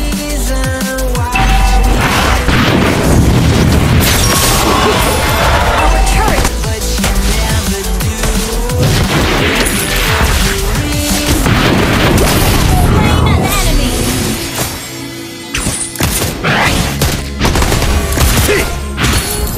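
Heavy booms, crashes and clashing impacts from a turret being destroyed in Mobile Legends, a loud dense barrage of blasts and hits through most of the stretch, briefly dipping before resuming.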